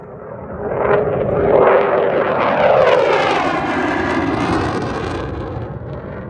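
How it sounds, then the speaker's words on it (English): Airplanes pass overhead in a hot outdoor setting, a broad roaring engine rumble swelling and fading over several seconds, fairly loud and alone without talk. "I think there's planes coming."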